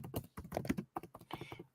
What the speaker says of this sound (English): So I can hear you typing, Sam.